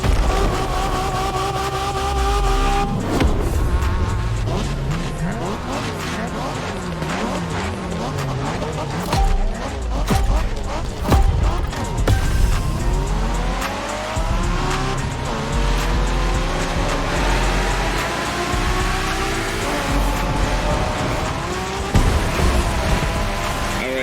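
A race car in The Crew Motorfest, its engine roaring and shifting through gears amid squealing tires, with bursts of music or game sounds layered over the drive.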